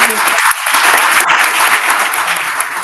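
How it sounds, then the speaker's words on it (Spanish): Conference audience clapping, dense continuous applause close and loud throughout, with no voices rising above it. "Un aplauso nuevamente"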